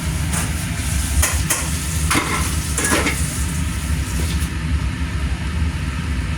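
Clams stir-fry with rock sugar and a splash of wine in a hot pan, giving a steady, loud sizzle broken by a few sharp scraping clinks of the spatula.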